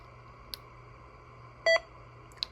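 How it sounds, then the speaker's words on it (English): A brief electronic beep from a Lincoln 2+ radio transceiver stands out over a faint steady hum, with a couple of tiny clicks around it. "Get rid of that beep."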